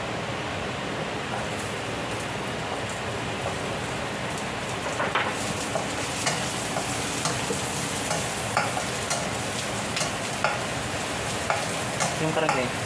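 Onions for chicken adobo fry over high heat, a loud dense crackling sizzle that continues throughout, with frequent scraping and tapping from a spatula as they are stirred.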